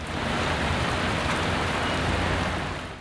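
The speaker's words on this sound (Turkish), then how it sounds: "Erzurum'da sağanak etkili oldu." Heavy rain shower pours steadily over the city centre streets of Erzurum, a loud, even, continuous hiss of downpour with no voices.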